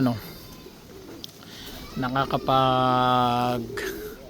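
Pigeons coo nearby in a short series of soft, throaty calls, with faint background ambience.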